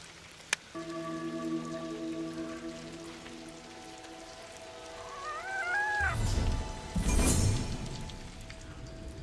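Rain falling in the open world of the video game Ghost of Tsushima, a steady hiss that swells louder in the second half, over a sustained musical drone and a short rising tonal flourish.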